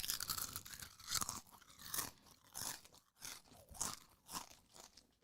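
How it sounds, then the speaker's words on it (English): Crunchy cheese-puff crisps, Cheetos, bitten and chewed close to the mic, a run of sharp dry crunches in uneven bursts repeating through the whole clip with no talk. "That sounds like a full-blown Cheeto. That had so much crunch to it."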